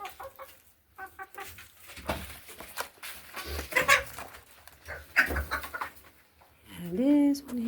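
Backyard chickens clucking and squawking at close range in irregular bursts, with one louder drawn-out call near the end and faint farm background between.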